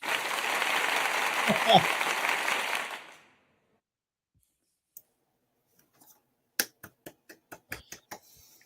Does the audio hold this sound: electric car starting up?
no